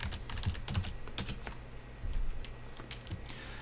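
Rapid clicking of a computer keyboard, bursts of close, crisp keystrokes with short pauses between them, as someone types a new name for a 3D cube object.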